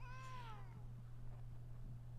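A single cat meows, a drawn-out, falling cry that fades quickly, heard over a steady low electrical hum with no voices.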